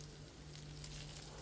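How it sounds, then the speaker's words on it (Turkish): Köfte meatballs fry in a pan with a faint, steady sizzle throughout, quiet and continuous with no talking. "Köftelerimi iyice kızartıyorum arkadaşlar."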